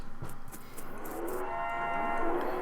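Cows in the video game West of Loathing, with a few short clicks followed by one long, drawn-out low moo that swells and holds to the end, close and fairly clear with no talk.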